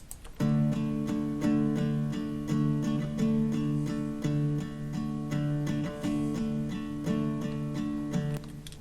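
Live acoustic guitar plucked with the fingernail instead of a pick, playing a steady, ringing fingered pattern of regular bright plucks over sustained low notes, close and full, with no voices.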